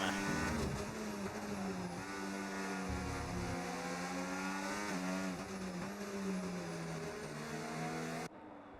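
Formula 1 race car engines in a racing video game at the British Grand Prix, a continuous high-pitched whining drone with shifting revs and gear changes, steady and loud throughout.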